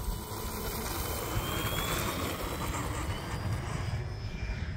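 An E-flite T-28 RC airplane takes off in wind, its electric motor giving a loud, steady whine that slowly rises in pitch over rushing wind noise.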